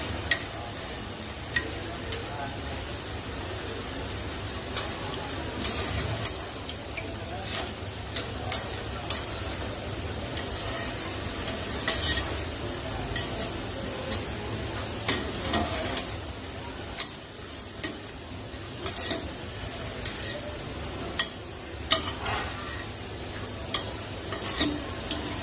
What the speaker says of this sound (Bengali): এগুলো আমি খুব বেশি লাল করে ভাজবো না, হালকা করে ভেজে নিয়ে তুলে নেব।